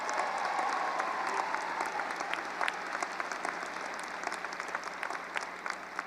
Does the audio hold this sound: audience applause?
yes